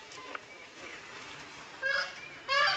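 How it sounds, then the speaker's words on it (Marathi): Roosters call on a farm where goats are kept, giving two short, strained calls in the last second, clear and fairly close against a constant background hiss. "कोंबडे"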